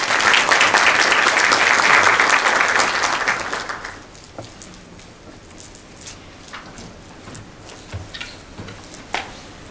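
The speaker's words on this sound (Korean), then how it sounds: "박수 맞이해 주시기 바랍니다." Audience applause at a Korean hanok forum and awards ceremony welcomes the opening speaker, loud and sustained for about four seconds, then dying away into scattered claps and room noise.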